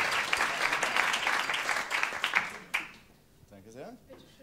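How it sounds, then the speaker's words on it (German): A stage audience gives a friendly round of applause for a girl drawing a lottery lot, a dense clapping burst that stops abruptly, followed by a person talking. "Einen netten Applaus für Nelly."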